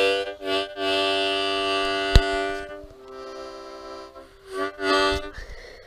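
A harmonica imitates a train horn: long, blaring chords held for seconds at a time, broken by short gaps and a sharp click, then shorter horn-like blasts near the end.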